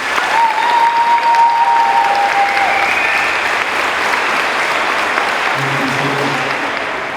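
Sustained applause from a graduation ceremony audience at a high school, a dense steady wash of many hands clapping for the full length, with a few whistles or tonal calls riding over it early on.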